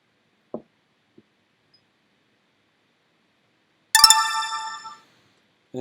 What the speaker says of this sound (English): it'll make a nice, pleasant sound when it's done